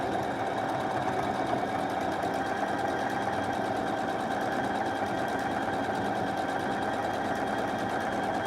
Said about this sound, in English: So here we are going to backstitch.